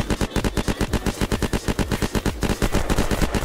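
Automatic gunfire shooting zombies in the Unturned video game: a fast, even burst of rapid shots rattling continuously for several seconds, loud and close, with no talk.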